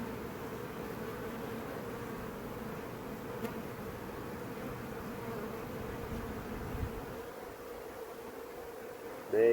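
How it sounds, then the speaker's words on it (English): Large honey bee swarm in a backyard hive, buzzing as a dense, continuous hum close to the listener, steady and moderately quiet with faint rustling. "This is a lot of bees in this swarm."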